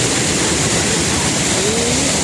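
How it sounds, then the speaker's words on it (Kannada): Pepper Falls, a hidden waterfall in Kodaikanal, roars as a loud, dense, unbroken rush of falling water heard close up. "ಫಾಲ್ಸ್ ನೋಡಿ ಗೈಸ್, ಆ ನೀರೆಲ್ಲ ಕ್ಯಾಮ್ರಾ ನಮಗೆ ಹೊಡಿತಿದೆ"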